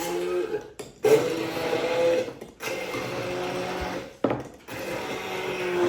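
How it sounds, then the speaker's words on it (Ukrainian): A blender motor whirs loudly in bursts, blending butter and fish, cutting out briefly and starting again several times, close and without talk. "плюс рибка і блендером перебиваємо"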